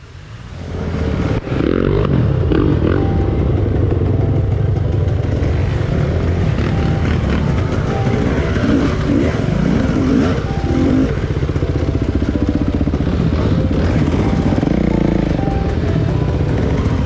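Dirt-trail motorcycle engine revving hard and continuously, loud and close, a steady throaty drone with rising and falling throttle surges that holds for the whole stretch with no talk over it.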